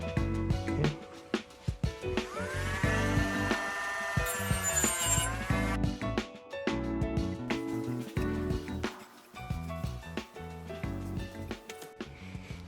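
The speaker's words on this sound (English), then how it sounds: "now I'm going to try to smoothen the outside a bit with this flat wheel here" A Dremel with a flat wheel smoothing the outside of a cut on a Manitou Dorado Expert fork part: steady high-pitched whirring grind with shifting pitch and contact scrapes, close and continuous, no talk.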